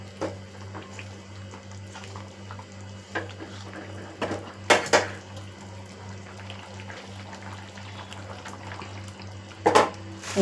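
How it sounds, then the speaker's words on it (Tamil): A spoon stirs fresh cream into mushroom gravy in a pan, with soft scraping and a few sharp metallic clinks against the rim over a low steady hum. "ஃப்ரெஷ் க்ரீமு போட்டு இப்போ நம்ம அதை மிக்ஸ் பண்ணி விட்டுக்கலாம்."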